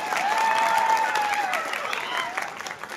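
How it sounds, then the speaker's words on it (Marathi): Students at a school send-off ceremony for SSC and HSC pupils clap together in a dense, sustained round of applause filling the room, tapering slightly toward the end. "अरे टाळ्या वाजवा ना"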